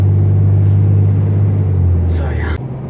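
A 2014 Ram 3500 Cummins diesel pickup towing a heavy load gives a loud, steady low drone and rumble from inside the cab, briefly shifting at the end, while someone talks over it.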